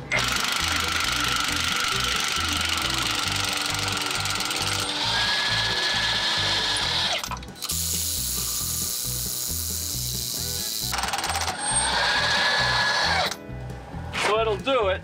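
A cordless impact gun fitted with a 1-inch socket hammers and rattles loudly and close up, working on a tri-axle lowboy trailer in bursts of several seconds separated by brief pauses.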